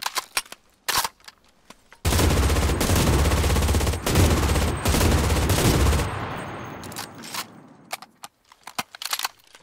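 German MG 42 machine gun mounted on a tripod fires one long, loud, continuous burst of rapid automatic fire lasting about four seconds, with short clicks and mechanical handling noises before and after.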